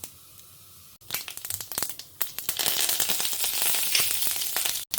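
Mustard seeds and urad dal frying in a little oil for a tempering, building from scattered pops into dense, bright crackling and sizzling close by.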